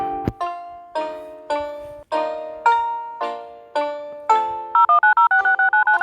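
Emergency phone being dialed in an airplane video game: a string of about eight evenly spaced dial tones, followed by a rapid run of clipped, warbling ringback beeps, loud and alone.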